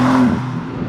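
A BMW M car engine revving in a different drive mode on a climb, one loud close rising then falling rev lasting under a second.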